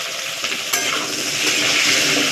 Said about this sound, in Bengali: তেল গরমের মধ্যে আলুগুলো ভেজে তুলে নেব